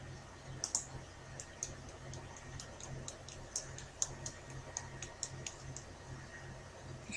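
Sparse, faint mouse clicks on a computer while working through a C++ project setup, single quiet ticks scattered irregularly over a low steady hum, with no talking.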